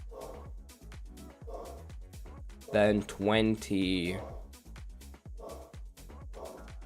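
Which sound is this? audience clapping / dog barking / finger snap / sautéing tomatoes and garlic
dog barking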